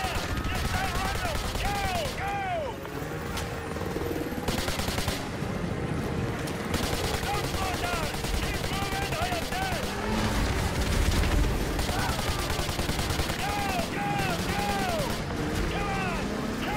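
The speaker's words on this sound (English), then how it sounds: "I'm shooting at him." Rapid gunfire and heavy booms fill a battle in the Call of Duty Modern Warfare 2 Remastered campaign. Dense, continuous bursts run throughout at close range, and a voice can be heard in the mix.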